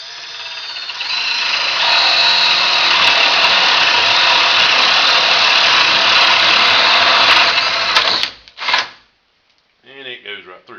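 A power drill bores through wood at steady high speed for about seven seconds, then stops abruptly, followed by brief clatter and a short spoken remark.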